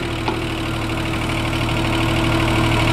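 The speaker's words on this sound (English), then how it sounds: "Do old motor reverse." An old electric motor runs in reverse with a steady, even hum and faint mechanical vibration, constant in level throughout with one small click near the start.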